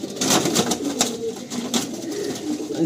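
Several racing pigeons coo and flutter close by in an enclosed loft, soft overlapping calls with occasional wing flaps.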